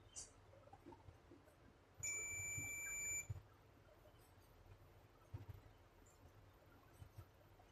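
Digital multimeter in diode mode testing a Nissan fuel injector IC gives one steady high-pitched beep lasting about a second, clear and close, with faint handling clicks before and after.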